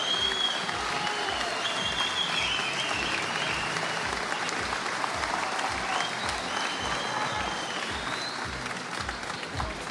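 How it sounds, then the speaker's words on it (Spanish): Dense, sustained applause from a large crowd fills the whole stretch as a president arrives at a political event. The clapping is loud and continuous, with a few faint voices mixed in. "Se calmaron un poquitito los aplausos"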